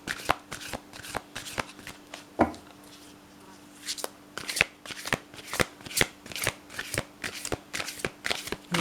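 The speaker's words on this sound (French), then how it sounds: "Un joli petit mélange et on va prendre une carte." A deck of playing cards being shuffled in repeated quick riffles and bridge-style passes, crisp close-up flutters with a short pause in the middle, no voices.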